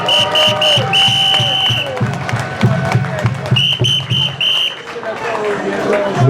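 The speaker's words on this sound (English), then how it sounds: "Give Rory a round of applause." A crowd applauds and cheers at an anniversary sound-system clash event between two selectors, loud, dense clapping mixed with sustained tones and a voice heard over it.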